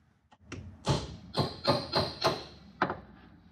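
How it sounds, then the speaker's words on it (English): A hammer strikes a standard small chisel set on a link of a John Deere 750 drive chain, giving about six sharp metallic taps in an uneven rhythm, close and fairly quiet. "I just take my chisel, just a standard little chisel, and a hammer"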